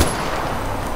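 Gunfire in the video game Far Cry 4, a dense burst of shots right at the start, then a steady loud roar of game noise through the rest of the second.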